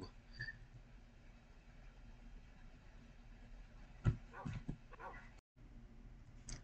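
Dogs in a survival game, faint, with a short cluster of barks and yips in the middle over a quiet background; a voice talks softly.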